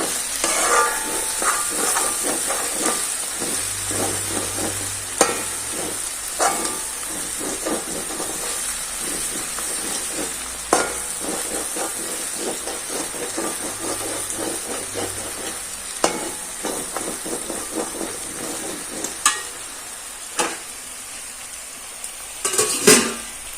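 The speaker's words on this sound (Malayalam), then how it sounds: "കുറച്ച് വേപ്പല കൊടുക്കാം നമുക്ക് അത് മുരിഞ്ഞു അത് ഇതിൻ്റെ കൂടെ കിടന്നിട്ട് മുരിഞ്ഞോട്ടെ" Curry leaves crackle and spit in hot oil for a fried-fish curry, a steady sizzling hiss broken by sharp pops and brief stirring clatter, close and fairly loud throughout with no voices.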